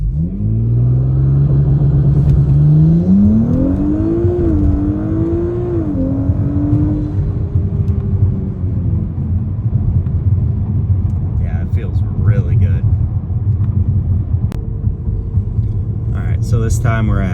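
An Audi B9 S4/S5 engine revs up and holds on EPL launch control with anti-lag, a loud rising then sustained drone with crackles and pops later on.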